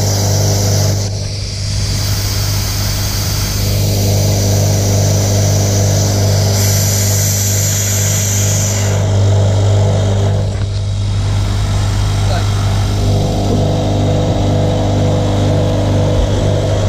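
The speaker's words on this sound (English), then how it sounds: "You have to release the air on the vacuum first before you switch the pump off." Vacuum pump running while degassing resin in a vacuum chamber, a continuous steady mechanical drone with a strong low hum and a few brief shifts in tone, heard alone without talk.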